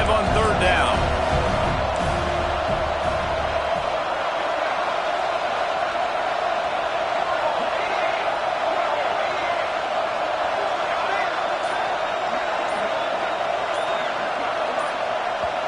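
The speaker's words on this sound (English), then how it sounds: "the crowd forces a false start" A packed stadium crowd at a Florida State Seminoles college football game keeps up a steady, dense roar for the whole stretch, with a commentator talking over it.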